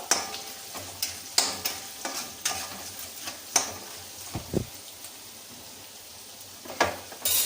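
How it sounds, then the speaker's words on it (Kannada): Food sizzling and frying in a pan for lemon rice with capsicum, with steady crackle broken by repeated sharp stirring scrapes and clatters, close and fairly quiet, no talk. "ಫ್ರೈ ಆಗ್ತಾ ಇದೆ."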